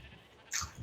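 A single short sheep bleat from Minecraft, clear and fairly loud against near silence, with no talking.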